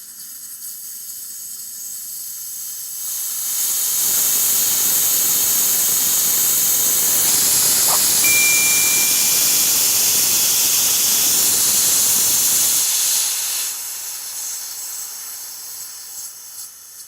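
A steady stream of air blows past ping pong balls in an experiment, a loud broad hiss that rises, holds evenly for about ten seconds, then cuts back down.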